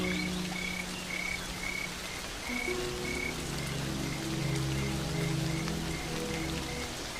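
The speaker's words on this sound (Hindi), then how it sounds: "इस तरह अचानक मूसलाधार बारिश होना अजीब है" Sudden heavy rain on the Serengeti plains, a dense steady hiss of downpour with a repeated high croaking or chirping call pulsing over it and low tonal hums beneath.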